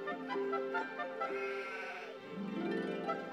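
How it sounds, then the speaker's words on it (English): Cartoon sheep let out a run of overlapping bleats, clear and close, with a rising, wavering pitch and a final long bleat. No one speaks over them. "These must be counting sheep."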